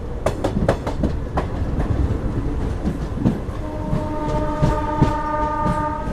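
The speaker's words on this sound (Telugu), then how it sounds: "ఆ ట్రైన్ వచ్చేసి గుత్తి నుంచి అయితే బయలుదేరిపోయింది" Seven Hills SF Express train pulling out of Gooty Junction station, with a loud rumble of wagons, rhythmic clickety-clack of wheels over rail joints and a sustained horn tone building in the second half.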